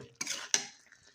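Two quick scrapes of a spoon stirring brinjal curry in a pan, close and clear, the second sharper, followed by a faint fading clatter.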